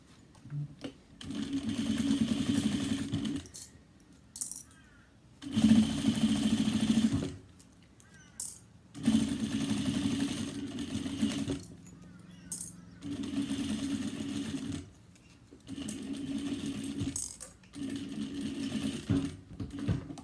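Domestic sewing machine stitching a recessed zipper and gusset on a cross-body bag, running in several steady bursts separated by short pauses, close and fairly loud.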